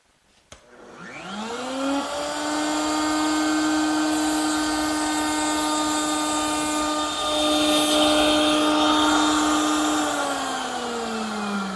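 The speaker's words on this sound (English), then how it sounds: "I've switched over to a 1/16 inch radius round over bit or beading bit to make this delicate bead" A router table spins up with a 1/16 inch radius round-over or beading bit cutting wood, a loud steady high whine that rises quickly at the start, holds, and briefly changes pitch near the end.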